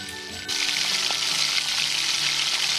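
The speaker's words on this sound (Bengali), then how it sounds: "আলুটাকে আমি ভালোভাবে ভাজবো যতক্ষণ না আলুটার মধ্যে একটা কালার আসে গোল্ডেন কালার" Potatoes fry in a pan with a generous amount of asafoetida, for a hing aloo chorchori curry. The sizzle flares up loud after a quieter start and then holds steady and dense, with a faint stir near the middle.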